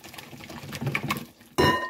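Plain non-fat Greek yogurt is mixed thoroughly in a bowl: a steady, soft, wet stirring texture runs throughout, and a louder clattering knock of utensil against dish comes near the end.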